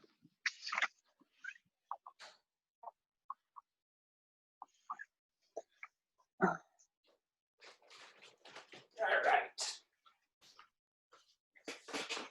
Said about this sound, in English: Oh, the dog is crying.